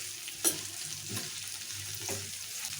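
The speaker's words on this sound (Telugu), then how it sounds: "సో ఉల్లిపాయలు కూడా మంచిగా ఫ్రై చేసుకోవాలి." Long-sliced onions frying in a pan for peanut rice, a low continuous sizzle broken by a few scraping stirs, quiet and close with no voices.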